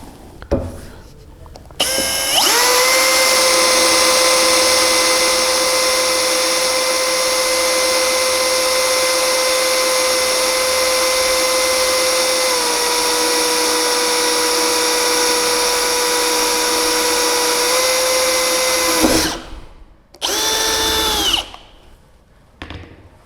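A Bosch GSR 185-LI cordless drill/driver runs free with a fitted bit, a loud steady motor whine held for about seventeen seconds, then a brief stop and two short final bursts.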